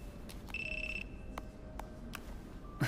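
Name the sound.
phone ringtone in an anime scene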